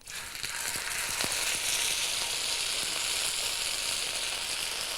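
Steak sizzles steadily in a hot frying pan on high heat, a loud, continuous crackle after a few soft clinks at the start, with no voices.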